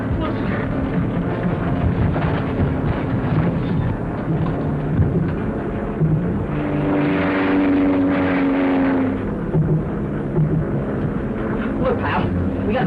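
An airplane engine drones in a 1941 black-and-white film soundtrack. The low, throbbing rumble runs continuously, rises and falls slightly in pitch, and carries under occasional voices.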